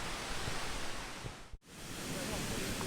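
Steady broadband rush of falling water from small waterfalls beneath a boardwalk at Plitvice Lakes, Croatia, close and continuous, like small cascades churning below, with a brief dropout midway.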